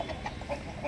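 An Aseel rooster from home breeding gives a few short, close clucks in quick succession, brief and moderately quiet against a low background hum.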